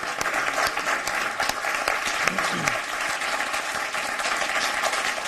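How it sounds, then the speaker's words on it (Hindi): A crowd at a televised poetry contest on the 2019 Lok Sabha elections gives loud, sustained applause, dense and even throughout, with a brief voice heard within it. "एक बार जोरदार ताली से स्वागत करें"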